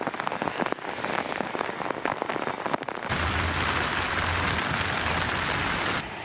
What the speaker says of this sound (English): The heavy rain struck during the morning commute.